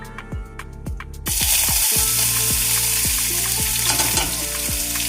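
Crushed ginger and garlic go into hot oil in a pan on a low flame after a series of rhythmic knocks, then a loud, close, steady sizzle takes over.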